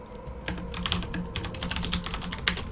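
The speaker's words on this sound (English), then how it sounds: "I probably shouldn't be typing back to the person" Fingers type quickly on a computer keyboard while replying to fan page messages, a close, steady patter of clicky keystrokes with no talking.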